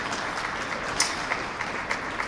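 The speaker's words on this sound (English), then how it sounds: "A round of applause to all of our sponsors" A crowd applauds at a veterans' Valentine's Day ball and gala in a hotel ballroom, a steady wash of many hands clapping at moderate distance, fairly soft, with a few sharper individual claps standing out.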